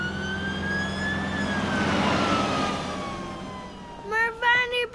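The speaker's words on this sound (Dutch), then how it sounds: "De brandweerwagen moet naar een noodgeval toe." A cartoon fire engine's siren wails loud and steady in a long rising then slowly falling sweep as it leaves for an emergency, followed near the end by a child's high-pitched voice.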